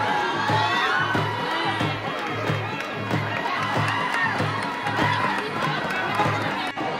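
A dense crowd shouts and cheers through a street during the Palbhati festival at Deulgaon Raja, a loud, continuous roar of voices with whoops and a steady rhythmic pulse underneath.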